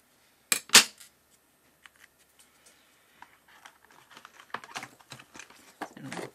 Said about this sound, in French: Alors, des bons ciseaux.